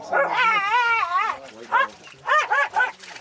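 A dog yelps and whimpers with high, wavering cries, then gives a few short yips near the end, close and fairly loud outdoors beside water where a beaver swims.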